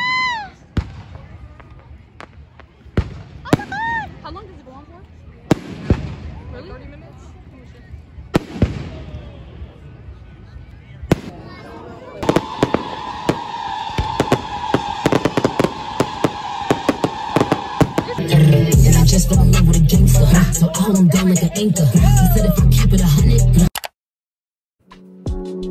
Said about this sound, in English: The fireworks about to start in a few minutes.